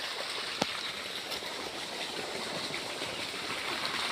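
Water rushing steadily from a Tullu pump draining a village pond during a fish harvest, a continuous splashing gush with a brief knock partway through.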